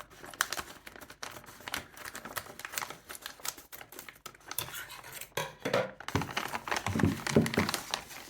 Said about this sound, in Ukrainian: Давайте зараз я відкрию цей пакетик при вас.